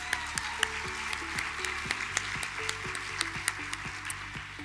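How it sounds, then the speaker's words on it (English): Audience applause at a scholarship pageant, a steady mass of hand claps filling the hall at moderate loudness under a low musical tone, with no voices on top. "Let's give her a huge round of applause."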